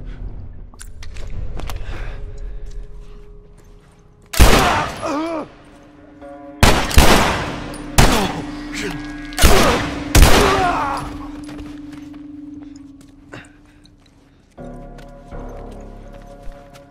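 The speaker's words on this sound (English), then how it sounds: "Because they're shooting at me." Enemy gunfire in The Last of Us inside a capitol building, several loud sharp shots spaced a second or two apart over a steady low game ambience, with occasional footsteps and movement between them.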